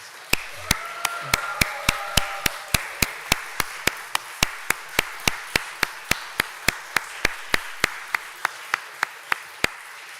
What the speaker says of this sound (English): So could we give them a round of applause, please?